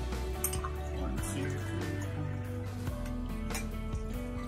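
Gin is poured over ice cubes in a glass, making soft trickling and dripping with faint clinks, close and quiet.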